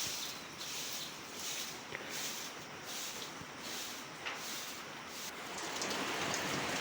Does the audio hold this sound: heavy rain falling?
yes